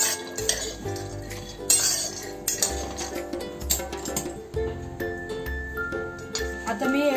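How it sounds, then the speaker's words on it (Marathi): Roasted cashews scraped and lifted out of a pan while ladoo is made, giving repeated close metallic clinks and scrapes of spoon against pan over a steady background hum, with no talking. "आता मी काजू पण काढून घेत आहे."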